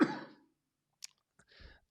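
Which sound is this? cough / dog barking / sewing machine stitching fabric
cough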